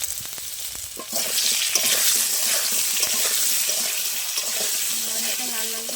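Cut vegetables fry in hot oil with a little turmeric and salt, giving a steady close sizzle that starts after a quiet moment, with occasional stirring clinks and scrapes in the pan.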